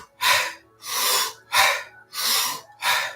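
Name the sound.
deep breathing exercise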